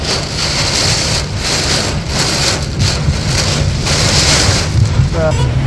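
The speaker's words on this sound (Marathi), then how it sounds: "वादळी वाऱ्यासह जोरदार पाऊस झालेला आहे।" A loud, steady roar of heavy rain driven by strong wind on the Mumbai-Pune Expressway, with gusts swelling and fading throughout.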